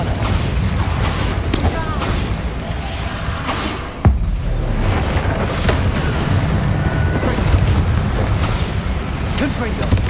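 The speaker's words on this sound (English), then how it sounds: "Bombarda." The Bombarda blasting spell goes off in the Hogwarts Legacy video game: a loud, sudden explosive boom cuts through a continuous roar of combat effects and whooshes, with a voice speaking over the chaos.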